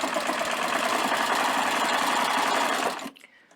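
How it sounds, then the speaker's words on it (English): Serger sewing machine stitching and trimming a circle drawn on square fabric, with a steady, fast mechanical whir that runs loud for about three seconds and then stops abruptly, leaving quiet room tone. "I just had to draw around on a piece of square fabric and the machine's cutting the circle"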